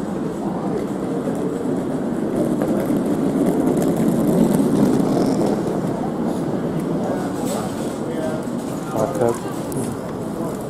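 A passenger train pulls into a station platform with a steady rumbling roar of wheels and engine throughout, and faint station sounds in the background.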